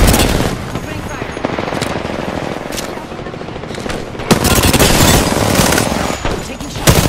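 Sustained automatic gunfire rattles through an Apex Legends match, loud and continuous, with dense bursts that swell and surge again, alongside in-game effects and no speech.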